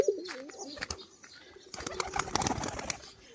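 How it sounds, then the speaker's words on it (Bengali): A tumbler pigeon performs with quick bursts of flapping wings, close by, with soft cooing and bird calls between the flurries. "আবার এই যে দাঁড়িয়েও খেলছে পায়রা"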